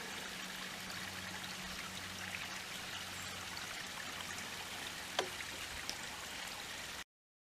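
Steady broadband rush of a small mountain stream at the headwaters of Ivy Creek along an abandoned road in Shenandoah National Park, constant and fairly near, with a low hum beneath and a couple of faint clicks.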